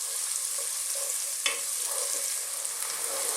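Ginger frying in a pan over medium-high heat for a vegan cauliflower curry: a steady close hiss and crackle that sizzles on without a break, with brief stirring scrapes and no talking.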